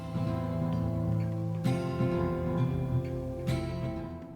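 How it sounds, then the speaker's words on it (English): The normal version of Bonnie's song from a Five Nights at Freddy's fangame, a steady tonal music loop with sustained layered notes and two sharp accented hits partway through, playing continuously at moderate level with no talking. "The normal song that plays sounds like this."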